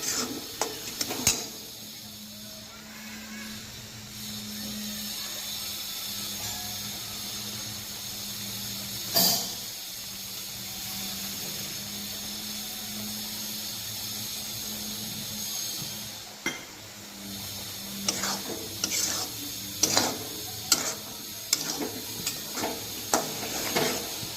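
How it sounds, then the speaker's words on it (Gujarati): Spices and masala for bhindi masala fry over low heat in a pan, giving a soft, steady sizzle and hiss with occasional scraping stirs and sharp utensil clicks against the pan. "આ બધાને ધીમે તાપે તળવા દઈશું."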